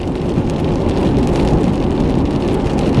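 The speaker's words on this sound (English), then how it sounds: "This is coming down as rain, I think." Steady rain pours down nearby with a dense, even hiss and no voices or other sounds.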